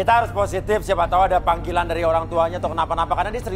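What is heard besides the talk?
No everyday noise stands out behind the speech.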